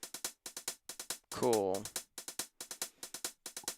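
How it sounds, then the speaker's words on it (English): Hi-hat sample on an Akai MPC Live plays as a steady run of short, crisp ticks in an even rhythm, with a brief spoken word breaking in partway through. "let's go ahead and get the next hi-hat sound in, which sounds like this here."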